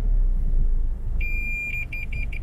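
A 2020 Toyota RAV4 parking sensor beeps as the car nears bushes: a steady high tone breaks into a quick series of repeated short beeps over a low engine rumble.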